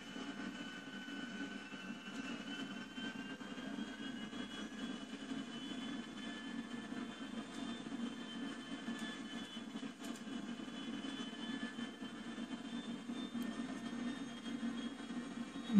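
A commercial airliner taxiing in reverse in GTA V gives a steady, moderately loud jet engine whine and drone, with tonal hums holding through the whole stretch and no talk over it.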